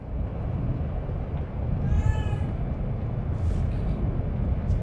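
A cat meows and cries in The Evil Within 2, with one plaintive, wavering meow standing out and a few fainter calls following. All of it sits over a constant low rumbling game ambience.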